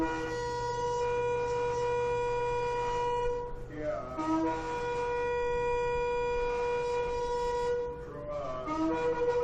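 A shofar horn sounds in three sustained, sliding blasts that rise in pitch at each restart, loud and close, over a steady low hum with no talk.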